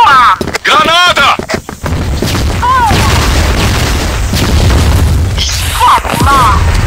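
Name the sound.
grenade explosion in a video game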